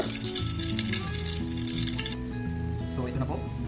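Onion and garlic sautéing in a pan for Bicol-style beef caldereta, a steady close sizzle running the whole time with a brighter hiss early on, while music or talk plays over it.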